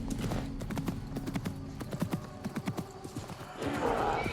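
Several donkeys walk along a road in the medieval Baghdad setting of Assassin's Creed Mirage, their hooves clip-clopping in a quick, irregular patter at close range, fading toward the end as a brighter ambient wash rises.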